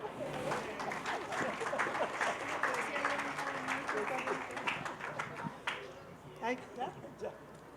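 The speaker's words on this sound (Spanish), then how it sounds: "Un aplauso" Applause from an audience at a talk on elections, with voices and crowd noise mixed in, a dense wash of clapping that thins toward the end.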